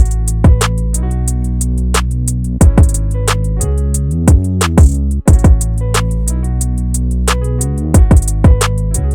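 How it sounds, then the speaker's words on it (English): Piano chords layered over a punchy drum beat with sharp, regular hits, loud and upfront in a produced beat-making mix, no voices present. "the piano by itself sounds like this with the drum."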